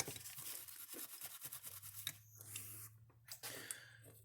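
A soldering iron tip is scrubbed clean in quick, faint bursts of brushing and rubbing, with a low hum running underneath and a few brief pauses.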